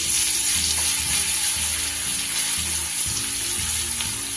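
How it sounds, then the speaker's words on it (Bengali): Crushed garlic sizzles steadily in hot oil for a Bengali bhola fish curry, a close, continuous frying crackle with no talking. "তেলের মধ্যে আমি দিয়ে দেবো সবার প্রথমে দেব গোটা পাঁচে রসুন এটা কিন্তু থেতো করে নিয়েছি"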